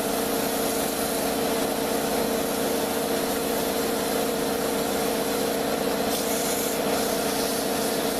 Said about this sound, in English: So sand it smooth.